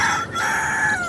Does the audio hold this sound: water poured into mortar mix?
no